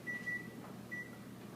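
A kitchen timer beeps when the baking of a homemade buttermilk pie is done: two short, fairly faint high tones, the second a little shorter, over a low room hum.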